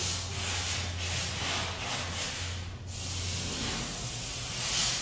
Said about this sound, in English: he'll also spray the lock mechanisms as well to lubricate those